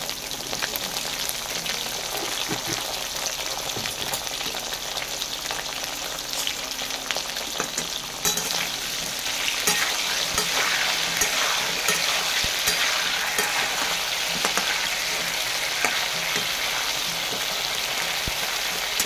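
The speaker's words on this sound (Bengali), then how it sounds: "এই পটলটা ভাজা হোক" Pieces of pointed gourd (potol) frying in oil in a pan, a steady close sizzle with occasional stirring scrapes, growing a bit louder and busier partway through, no voices.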